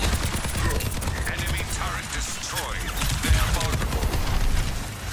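A turret fires rapid, continuous bursts during Christmas-themed Overwatch 2 gameplay, dense and loud with mechanical clatter and other game effects layered over it, and no clear speech.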